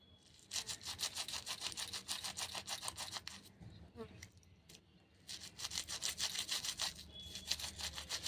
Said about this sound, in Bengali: এরকম ঘষে ঘষে আমি দুটো পায়েলই পরিষ্কার করে নেব